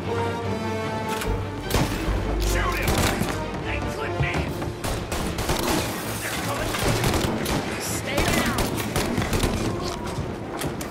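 Gunfire in the crime action game Mafia: Definitive Edition, dense bursts of shots and booming impacts stacked over continuous game music and noise, with someone talking throughout.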